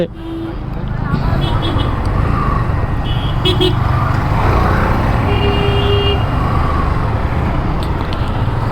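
Busy road traffic outside, a loud continuous rumble of cars and trucks passing close by with occasional horn toots, and someone speaking over the roar.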